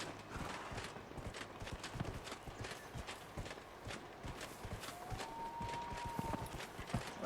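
Horse hooves clip-clopping in the video game Dragon Age Inquisition, a steady, rapid rhythm of hoofbeats at a brisk pace over a soft ambient background, with a brief tonal game sound near the end.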